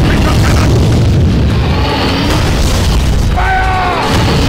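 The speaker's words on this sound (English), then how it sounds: "Engage with the crystal cannon!" Heavy booming blasts from a crystal cannon in the Godzilla: Unleashed video game, with a continuous loud roar of explosions and rumbling battle effects that fill the whole stretch.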